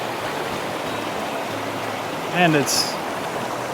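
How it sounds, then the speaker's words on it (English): Steady broadband rush of river current swirling around a wading angler at an old spillway, close and continuous, with a short spoken phrase near the end. "The current would like to knock me over, but I will not let it."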